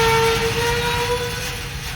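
A windmill spin effect from the Soundiron Rust 4 Relics library plays dry with no delay or reverb, a sustained metallic whine over a rough grinding rumble that holds steady and eases off slightly at the end.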